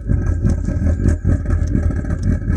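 A Chinese diesel heater starved of fuel runs with a loud, uneven, rough mechanical rumble and clatter, close by and continuous without speech.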